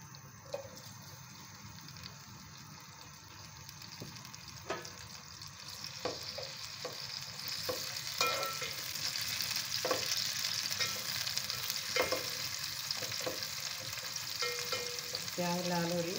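Chopped onions hit four spoons of hot oil in a pan, giving a steady sizzle that swells after the first half. Scattered utensil clicks and scrapes are heard throughout, with no talking.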